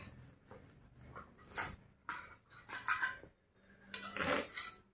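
A small bowl and a spoon are handled up close, with soft clinks and scraping knocks in irregular bursts against a quiet room.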